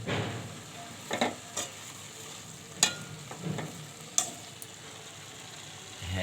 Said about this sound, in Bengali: এটা আমি নাড়াচাড়া করে ভালো করে ভেজে নেব